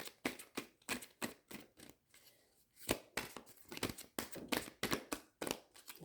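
Large oracle cards being shuffled and twisted by hand during a tarot reading, a run of sharp, close riffling bursts with a short pause midway, no speech.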